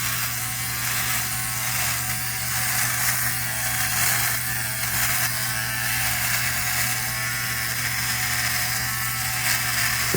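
Electric beard trimmer cutting through a thick goatee, a steady close buzzing hum with a fine rapid ratcheting texture that runs continuously without pauses.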